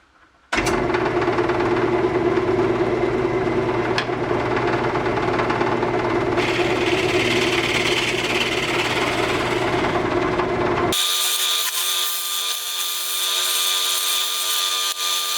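A scraper smooths a wooden workpiece spinning on a wood lathe, giving a loud, steady broadband whir and scraping drone that runs continuously, shifting in tone partway through.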